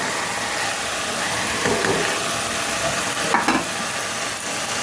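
Chopped vegetables go into cooked tomato in a hot pan for restaurant-style vegetable pulao, giving a loud continuous sizzle with a few stirring scrapes, close up and without talk.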